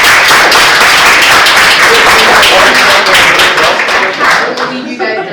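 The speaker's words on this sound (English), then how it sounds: "can we also get a round of applause for Ben and Nathan?" A loud, close round of applause for Ben and Nathan at a TV industry night Q&A, dense rapid clapping that thins and fades near the end.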